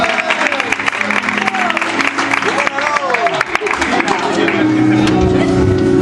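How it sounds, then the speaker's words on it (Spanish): Loud applause from a church congregation at a Good Friday Seven Last Words service, clapping spread across the hall with speech and murmuring running over it and a tone sustaining near the end. "Fuertes aplausos"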